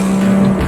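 A turbocharged 2008 BMW 135i M Sport revving to around 3,500 rpm: a loud, close, steady engine drone held for a moment before it drops away.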